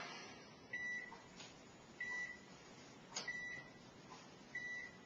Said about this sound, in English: Now, I'm going to reset my oven.